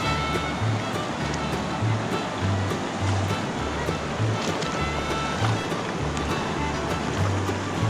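Cold mountain stream water rushing steadily on the west slopes of Mt Antero, a loud, continuous close-up wash with rhythmic splashing, as of footsteps wading through the current, throughout.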